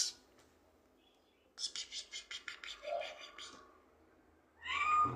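A cat meows in a short run of repeated calls near the middle of the clip, fairly close and clear, with a brief higher burst near the end and no talk over it.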